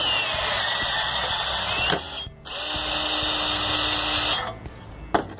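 Ryobi cordless lock cutter running with a steady, loud whirring drone that cuts out briefly twice and ends with a sharp clunk; no talking.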